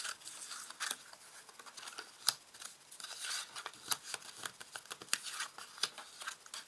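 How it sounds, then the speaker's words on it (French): Tarot cards being laid out one by one for a reading, with soft papery slaps and rustles at an irregular pace, close and quiet, with no talk. "je vais maintenant placer les cartes"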